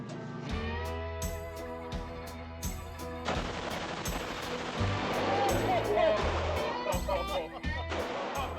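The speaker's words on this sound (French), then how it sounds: "quand tu as la mitraillette dans les mains puis que tu la vides en quelques secondes" Rapid automatic bursts from a machine gun in a Las Vegas VR shooting game, loud and sustained with a dense roar in the second half, while voices carry on underneath.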